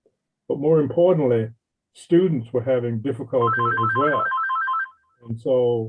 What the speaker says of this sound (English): I apologize for that phone